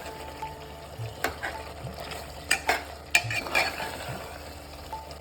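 Mutton being cooked down in a lidded pan, its meat juices released, giving a low steady sizzle broken by a few sharp clinks and scrapes of a utensil against the pot, with no talking.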